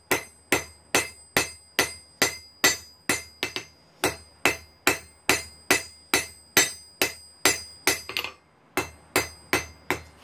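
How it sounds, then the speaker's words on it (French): A domed hammer forges orange-hot steel into a leaf shape, striking in a steady, even rhythm of sharp, ringing metallic blows, about two per second, close and loud, with one short pause. "On a pris un marteau bombé pour faire le commencement de la feuille."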